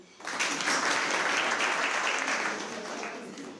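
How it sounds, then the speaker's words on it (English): An audience at a public lecture claps together in sustained applause that starts abruptly, holds steady for about three seconds and then thins slightly toward the end. "Are you going to clap for him?"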